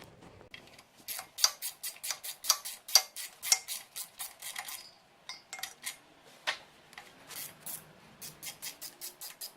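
A wrench working a rusted bolt loose on a small-block Chevy engine in a drift truck, a quick run of sharp clicking ratchet strokes, then scattered metallic taps and more clicks, close and fairly faint, no voices.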